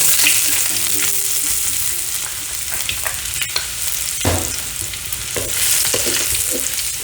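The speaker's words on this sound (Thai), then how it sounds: "ใส่น้ำมันพืชลงไปแล้วก็ตามด้วยกระเทียม" Garlic frying in hot vegetable oil: a steady, close sizzle with crackling and a few sharp clicks of stirring, no voices.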